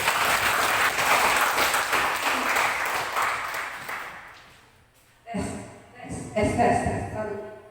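An audience at an Indonesian school event gives loud sustained applause that fades after about four seconds, followed by microphone taps and thumps as someone prepares to speak.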